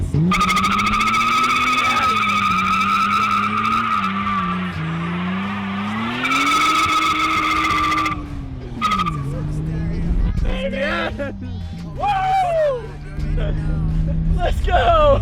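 An old-school BMW E30 doing a burnout, its engine screaming at high revs and bouncing off the rev limiter while the tires squeal loudly and continuously, with excited voices shouting over the din.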